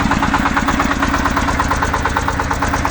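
A vehicle engine idles steadily after the throttle is eased, a close, loud, rhythmic mechanical chug with fast, even pulses and no talk over it.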